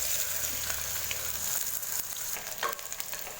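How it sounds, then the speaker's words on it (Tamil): Small onions soften in a pan with a soft, continuous sizzle, quiet and close, with occasional light scrapes of a spoon and no one speaking. "வெங்காயம் பாருங்கள் நல்லா வதங்கிட்டுருக்கு"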